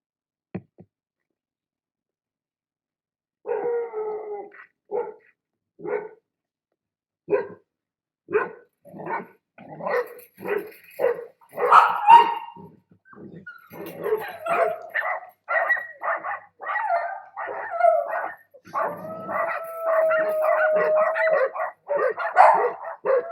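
Several dogs in San Andrés Huayapam, Oaxaca, Mexico, bark in repeated bursts that grow busier and louder, with yips and a sustained howl rising near the end; fairly close and clear, with no talking.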